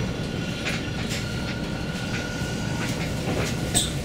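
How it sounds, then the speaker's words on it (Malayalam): A train in Italy rolls toward a railway station, with rhythmic clickety-clack of wheels over rail joints and brief high wheel squeals against a steady rumble, heard alone without talk. "ട്രെയിന് ഒരു പട്ടണത്തിലേക്ക് എത്തിയിരിക്കുന്നു."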